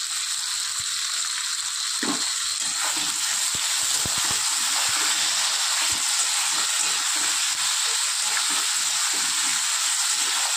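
Pumpkin and potato chunks with tomato and salt fry in a pan, giving a loud, steady hiss that runs unbroken from start to finish, with occasional pops and stirring clatter underneath.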